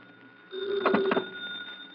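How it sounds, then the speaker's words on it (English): A telephone bell rings in a short burst of rapid metallic trills at close range, standing alone before fading. "my phone ringing at 11 o'clock in the morning can constitute a dissonant, irritating, and annoying sound"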